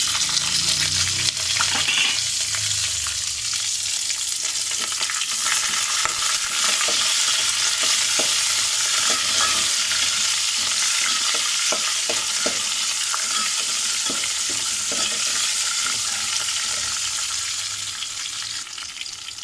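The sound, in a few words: green chillies and curry leaves frying in oil for lemon rice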